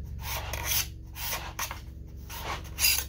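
Card scraper pulled across wood to take off cured epoxy, close rasping strokes in several short bursts with brief pauses between them, no talking.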